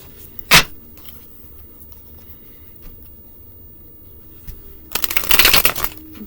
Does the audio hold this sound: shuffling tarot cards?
yes